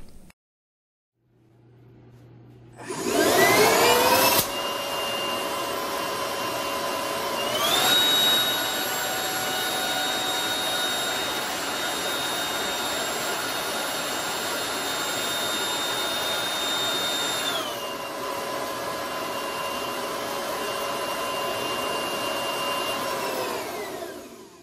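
An electric ducted fan on a thrust test stand spools up to a loud, high-pitched jet-like whine, steps up further in pitch, holds steady for a long stretch, then drops back to a lower steady roar.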